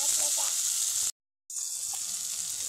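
Ground cumin hitting hot oil in a frying pan while cooking catla fish belly, a bright, hissing sizzle close up that cuts out briefly for a moment, then resumes steadily.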